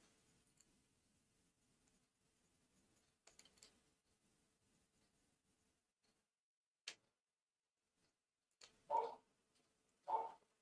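A dog gives two short, sharp barks near the end, about a second apart and moderately loud against a very quiet room, with a few faint clicks before them.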